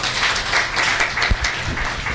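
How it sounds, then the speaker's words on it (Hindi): An audience at a Bhagavad Gita discourse gathering claps together, a dense, even burst of applause filling the whole moment with no speech over it. "ताली बजा दें हम लोग।"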